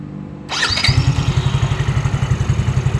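A Yamaha Mio J motorcycle engine cranks with a short whine, catches and settles into a steady, close, rhythmic idle putter.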